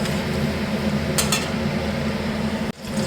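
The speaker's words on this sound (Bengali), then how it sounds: "এই যে পনিরটাকে একটু ফ্রাই করছি, হালকা করেই করব" Paneer fries lightly in oil in a pan at home, giving a steady, close hiss with a brief utensil clatter midway and an abrupt break near the end.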